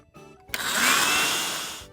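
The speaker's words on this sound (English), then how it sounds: "Okay, I'm going to vacuum the floor now." A toy vacuum cleaner runs on a floor. Its loud, steady electric whirring starts abruptly and holds for well over a second before easing slightly, with no talking.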